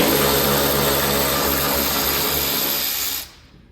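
A power tool whirs steadily and loudly at close range while loosening a bolt on the bed bracket of a 2022 Toyota Tundra, then cuts off abruptly near the end.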